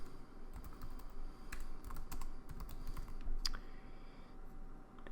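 Keys clack on a computer keyboard in short irregular bursts, close and moderately loud, with a few sharper clicks over steady low room hum and no talking.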